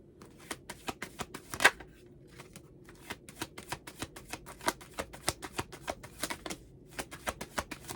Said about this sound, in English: Let me pull some more cards here.